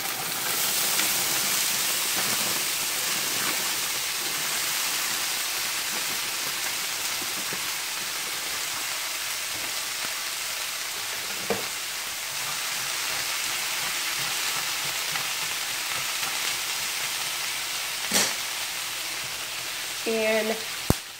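Potatoes frying in a hot pan give a steady, dense sizzle throughout, with a few soft clicks and clatters from utensils near the end.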